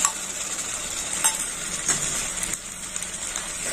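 Ginger and green chili paste being sautéed in a pan for Kashmiri chicken: a low, continuous sizzle with occasional metallic clinks and scrapes of a spoon against the pan.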